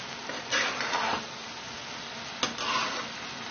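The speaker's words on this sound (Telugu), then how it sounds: "ఇప్పుడు అడుగు పట్టకుండా మనం కలుపుకుంటూ ఉడికించుకోవాలి" Grated coconut stirred in bubbling jaggery syrup in a pan: soft scraping strokes in two short bursts over a low, steady sizzle, close and fairly quiet.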